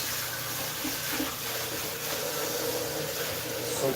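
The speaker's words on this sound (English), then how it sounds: "I'm going to wash out our Vitamix." Tap water runs steadily into a kitchen sink while a Vitamix blender is rinsed out, a continuous close splashing wash with no pauses.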